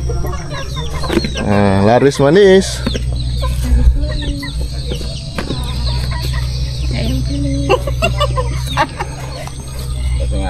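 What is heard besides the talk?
free-range village chickens clucking in a coop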